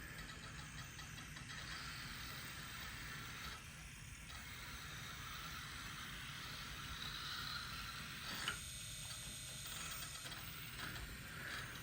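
A brass HO scale C&O H-6 2-6-6-2 articulated model locomotive runs noisily, giving a faint, continuous whirring and gear-grinding mechanical rattle that holds steady for the whole stretch with slight swells, close and without speech.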